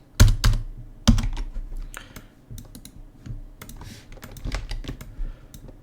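Fingers type on a computer keyboard in irregular bursts of crisp, close key clicks, with a few heavier thumps of keys being struck hard and short pauses between flurries.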